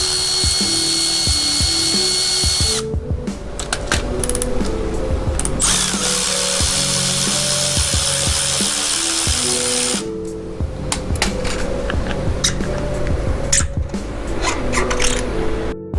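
A power tool whirs and ratchets while removing an 8mm hex bolt from a supermoto electric dirt bike wheel, loud and close, in two long runs broken by a short pause with clicks.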